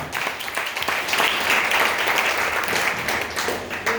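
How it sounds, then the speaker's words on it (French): A church congregation at a morning service applauding, producing a dense, continuous wash of clapping that fills the room at a fairly loud level. "Acclame le Seigneur pour ça."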